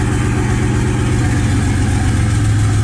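Turbocharged Dodge Dakota engine with a newly swapped five-speed manual, running with its idle set slightly high: a loud, steady, close drone with no breaks.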